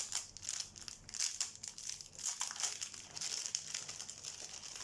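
A zipped plastic bag of diamond painting beads is opened, crisp crinkling and crackling plastic with small rustles, close and fairly quiet, no speech.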